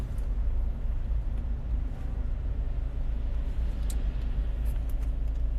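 Steady low rumble of a car interior while driving, a continuous engine and road drone filling the cabin with a few faint clicks and rustles on top, no speech.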